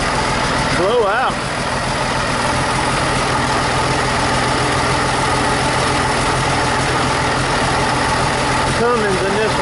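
Cummins diesel engine idling in parked heavy equipment, a steady loud rumble throughout with people talking over it.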